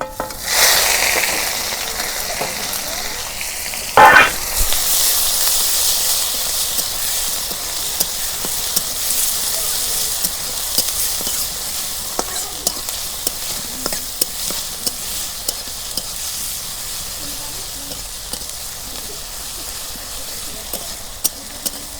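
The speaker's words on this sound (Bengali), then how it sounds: "এখন আমি পেঁয়াজ বাটা দিয়ে দিই" Onion paste fries in mustard oil in a wok, giving a steady close sizzle broken by sharp scraping and clinking strokes of stirring, with no talk over it.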